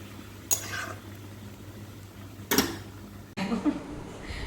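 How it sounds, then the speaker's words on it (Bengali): Vegetable curry is stirred in a pan after tempering, producing three brief, sharp scraping stirs against the pan over a quiet, faintly sizzling background. "এবার তরকারিটা এর মধ্যে দিয়ে দেবো"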